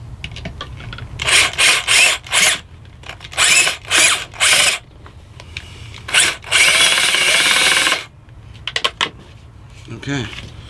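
A power drill driving skateboard mounting hardware, in several short whirring bursts followed by one longer sustained run, close and loud, with pauses and faint handling noises between.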